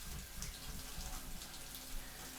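Steady hiss of shower water pouring and splashing in a bathroom in the survival game No One Survives, continuous and even throughout with no talking.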